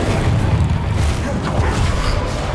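A fire spell from Hogwarts Legacy erupts in a loud, sustained roaring burst of flame that rumbles heavily through the low end for nearly three seconds, with no pause.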